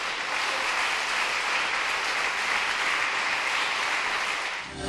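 A church congregation claps together in a dense, continuous round of applause offered as praise, steady and loud throughout before fading at the very end.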